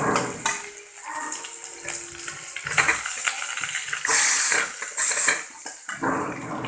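A utensil stirs ginger and garlic paste in a cooking pot, giving scraping and clinking strokes with brief sharper metallic scrapes near the end, no voices.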